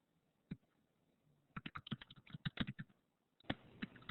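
Typing on a computer keyboard: a single tap, then a fast burst of clattering keystrokes, a short pause and another quick run, close and fairly quiet.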